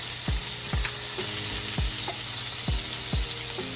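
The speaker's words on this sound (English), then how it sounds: "we're just going to stir it around, rotate our asparagus until it's nicely charred" Asparagus with all-purpose seasoning sizzles steadily in a pan, with a handful of sharp scraping knocks from stirring and turning spread across it; no talking.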